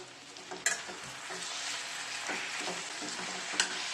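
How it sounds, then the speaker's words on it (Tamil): Chopped tomatoes sizzle and fry in a pan for tomato-mint chutney, with close, steady frying hiss and scraping stir strokes, plus a couple of sharper clanks near the start and end. "மூணு தக்காளி கட் பண்ணி வச்சுருக்கோம் அதை நம்ம இதில் சேர்த்துக்கலாம்"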